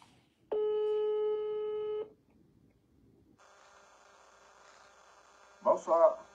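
A telephone line gives a steady electronic call tone for about one and a half seconds, followed by quiet line hiss and a buzzing ringback, and then a brief voice answers at the end.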